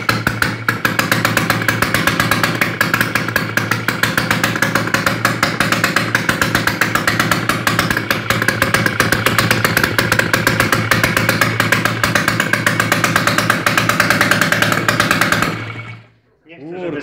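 A WSK M06B1 motorcycle engine, just overhauled, runs loud and steady with a rapid pulsing two-stroke beat for about fifteen seconds, then cuts out abruptly.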